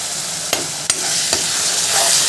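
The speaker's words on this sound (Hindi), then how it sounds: "थोड़ी देर अच्छे से इसको फ्राई करते हैं मसालों के साथ।" Turmeric, coriander and chili powder fry in hot oil in a pan with a loud, steady sizzle. A few spoon scrapes and knocks cut through the hiss, and no one speaks.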